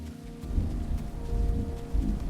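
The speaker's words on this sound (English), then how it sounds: "Ominous thunder in real life." Real thunder rumbling outdoors during play of The Isle, heard as a low, rolling, continuous rumble with a soft rain-like hiss, moderately distant and steady for a couple of seconds without talk.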